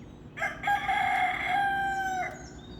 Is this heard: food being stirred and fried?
no